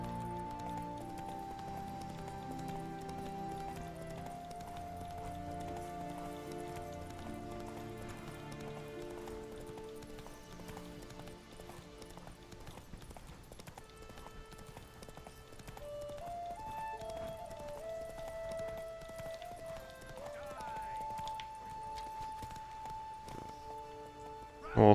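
Roach the horse gallops in The Witcher video game, a rhythmic clip-clop of hooves running steadily under a sustained orchestral music score for the whole stretch.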